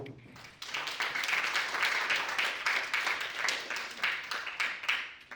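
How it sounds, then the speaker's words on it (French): Workshop attendees in Togo give Professor Batanda a round of applause, a moderate-sized group clapping in a fairly steady rhythm at middling volume for several seconds. "Je voudrais aussi demander votre soutien pour accorder une vive acclamation"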